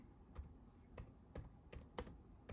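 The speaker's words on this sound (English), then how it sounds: "I'm going to type in Don Newcombe" Quiet typing on a computer keyboard, a few separate key clicks and short bursts spaced irregularly, close and alone.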